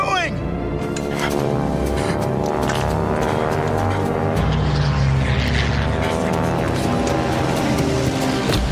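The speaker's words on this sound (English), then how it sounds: "Tiny plane!" A tiny propeller plane buzzes past in a comedy war skit, its engine droning loud and continuous throughout, with a sharp rising whine near the start and clattering effects layered over it.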